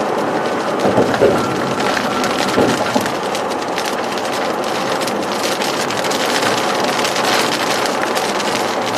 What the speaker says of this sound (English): Starting to get some rain now.